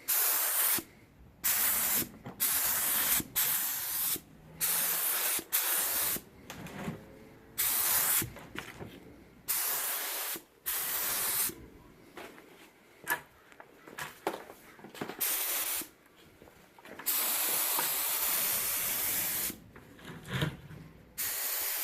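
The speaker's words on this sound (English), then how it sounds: "So let's start spraying." A paint spray gun hisses in repeated bursts of a few seconds each, separated by brief pauses, as automotive touch-up paint goes onto a Ford Edge rebuild, loud and close with no talking.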